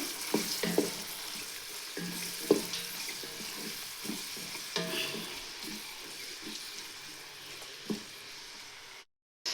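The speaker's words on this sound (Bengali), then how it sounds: "কারণ চিকেনটা বোনা করব এই জন্য একটু পেস্টটা বেশি করেই দিছি" Chicken frying in a pan with a generous amount of spice paste for bhuna, a steady sizzle broken by repeated scraping stir strokes of a spoon, close and fairly loud, cutting out briefly near the end.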